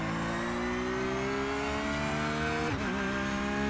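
Loud, close engine note of a Porsche GT3R racing at Imola in iRacing, revving upward steadily, then dropping sharply at a quick upshift before pulling again.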